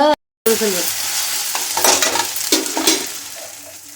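Onion and garlic paste fries and is stirred in a pan, loud continuous sizzling with scraping strokes of the spoon, after a brief moment of silence at the very start.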